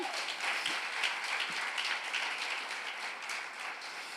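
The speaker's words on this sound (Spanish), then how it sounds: "Aplauda al Señor" A church congregation claps together during a sermon, a steady, fairly soft wash of many hands with no voices over it.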